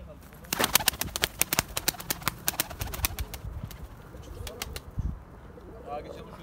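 Pigeons in a loft, including a double-crested blue, burst into flight, their wings giving off a rapid series of sharp, close flapping claps that fade out toward the end, with faint cooing in the background.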